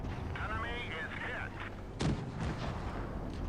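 Tank cannon fire in World of Tanks Blitz with a KV-1S and TOG in the battle, one loud boom standing out midway over steady game noise and ongoing talk.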